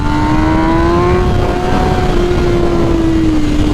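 A tuned 2021 MV Agusta Rush motorcycle accelerates hard, its engine note climbing as a loud, continuous roar with a high pitch that rises and then eases slightly over a few seconds.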